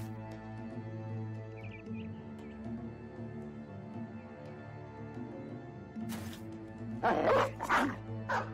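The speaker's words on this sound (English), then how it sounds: "Vlad moves up and unleashes yet another dog." War dogs bark while unleashed during a battle against goblins in the video game Battle Brothers. A couple of sharp, loud bark bursts near the end stand out over a steady droning game soundtrack.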